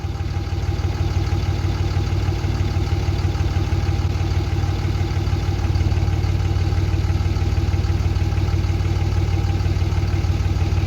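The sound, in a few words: Cummins diesel engine running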